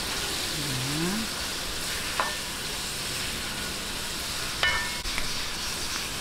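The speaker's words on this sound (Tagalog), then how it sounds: "Hintayin lang po natin mag-light brown tong ating chicken bago natin ilagay yung soy sauce" Chicken cubes frying in a pan, a steady close sizzle throughout with a few sharp clicks and scrapes of stirring near the middle and end.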